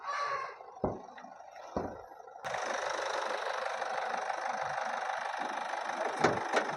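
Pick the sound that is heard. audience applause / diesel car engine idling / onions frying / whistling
diesel car engine idling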